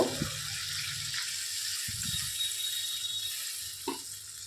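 Warm water poured into a pan of slow-fried spice masala while cooking a stuffed potato curry, a steady watery rush with faint clinks and scrapes, quiet and close, with no talking.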